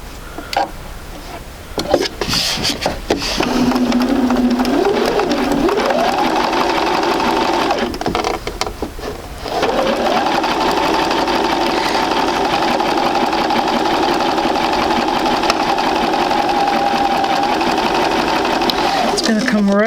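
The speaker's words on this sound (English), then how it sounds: "let's go ahead and sew a couple of these around so you understand" Sewing machine stitching a quilt block, a steady close mechanical whir running in long stretches with short pauses and pitch shifts as the stitching speeds up, and a voice talking over parts of it.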